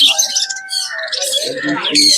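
Conure parrots at a bird market, giving a burst of bright, close chirps and squawks mixed with a voice speaking nearby.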